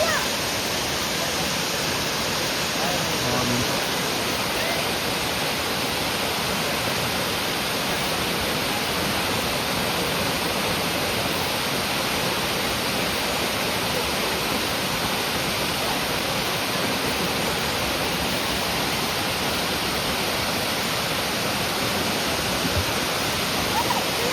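Catherine waterfall in the Nilgiris roars as a steady, dense rush of falling water, loud and unbroken throughout with no talking over it.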